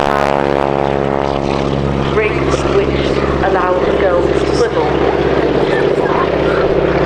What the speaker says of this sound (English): That incredible noise you can hear is 450 horsepower of Pratt & Whitney engine